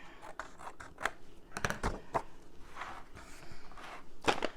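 Scissors snipping to trim material for a coffee-themed shadow box, a few scattered sharp cuts at close range with soft handling rustle between them.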